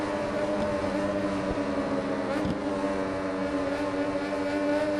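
An MV Agusta Brutale motorcycle races on a French Riviera circuit in the video game RIDE 4, its engine holding a steady, loud, tonal drone throughout without letting up.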